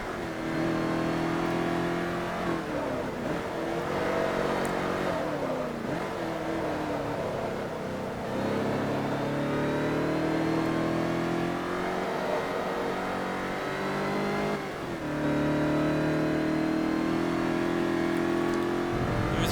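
A stock car engine racing in Forza Motorsport 3 drones loudly and continuously, its pitch climbing through revving gear changes and dropping at shifts, with no talk over it.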